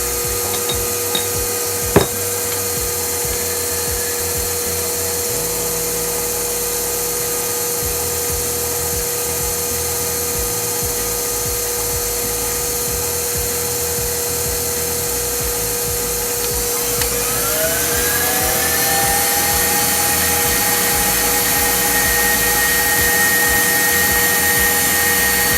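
An electric mixer whips egg whites with a steady, loud motor whine that climbs in pitch partway through as the speed is raised, then holds at the higher tone.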